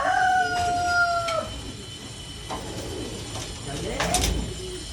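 Racing pigeons cooing around feeding time in a loft, soft throaty coos and shuffling close by, with a sharp chirp at the start and a person talking quietly underneath.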